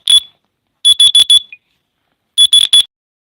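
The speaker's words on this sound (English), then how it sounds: "that's an alarm, a feeding alarm" A phone alarm set as a baby feeding reminder gives loud, close, high electronic beeps. They come in three short bursts of one, four and three beeps, with pauses of silence between them. No one speaks.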